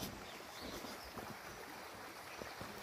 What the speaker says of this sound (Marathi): ते उंच कड्यावरून कोसळणारा एक धबधबा आहे.